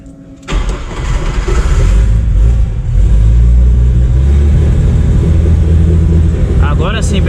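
A Chevrolet Opala with a turbocharged six-cylinder engine catches and starts close up, then runs loud and rough with a steady throbbing idle that swells briefly.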